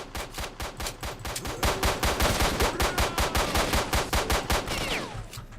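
Rapid, steady bursts of shotgun fire in S.T.A.L.K.E.R.: Shadow of Chernobyl, loud and close, with dozens of sharp blasts in quick succession over several seconds before trailing off.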